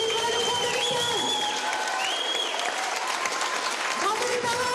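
An audience applauds loudly for the 16 finalists of the 2015 Tour de France contest at a live event, steady dense clapping throughout with a voice and music carrying over it.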